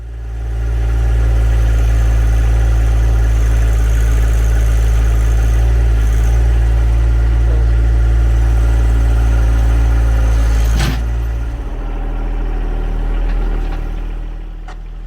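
A John Deere 1025R compact tractor engine pulling a round metal post, a loud, close, steady low drone that holds firm for about ten seconds, then drops off after a sharp knock and settles to a lower idle.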